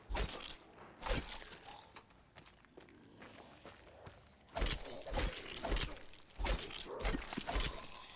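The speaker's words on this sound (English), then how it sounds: "the crunching of glass and the splashing of the water." Crunchy, crackling impacts and scattered shattering bursts of glass crushed underfoot in the Call of Duty map Verrückt, in an irregular rhythm, with thuds and scraping.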